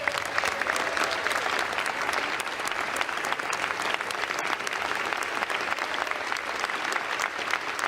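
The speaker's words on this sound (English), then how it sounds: "They're clapping" Sustained applause fills a legislative chamber in the Capitol, a dense, steady roar of many hands clapping at an even level throughout.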